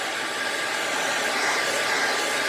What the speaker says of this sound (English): And then you take your blow dryer and blow dry it.